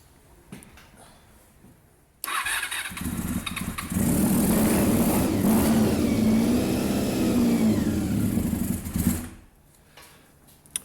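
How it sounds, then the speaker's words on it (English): Honda RVF400 motorbike engine kicks into life on brake cleaner, idling roughly then revving loud and steady for several seconds before cutting out and falling quiet. "And there we go, a running motorbike-ish. Till it runs out of brake cleaner."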